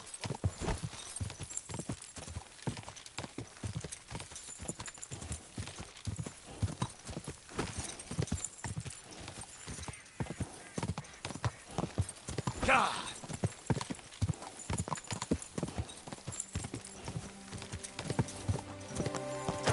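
Horse hooves clip-clopping in the video game Kingdom Come: Deliverance II, a brisk, regular run of close hoofbeats that continues for the whole stretch, with occasional voices and a short burst of louder noise partway through.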